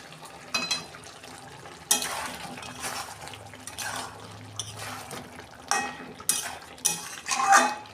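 Fried Jyoti potatoes stirred into chicken curry in a pan, with scattered metal spoon scrapes and clinks against the pan over a soft simmering background, no talking.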